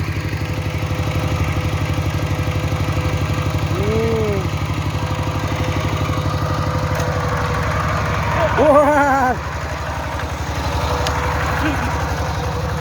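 A Kubota machine digging in a cassava field runs as a steady, close, rumbling engine drone throughout. Voices talk over it, and a brief louder surge comes near the middle.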